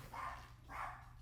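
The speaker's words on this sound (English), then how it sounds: "there goes the dog again" A dog barking indoors, two faint muffled barks about half a second apart, heard from another room over a low background hum.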